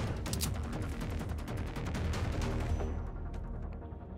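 Rapid gunfire from a weapon in the video game Generation Zero, a dense burst of sharp cracks loud and close for about three seconds before cutting off into quieter background.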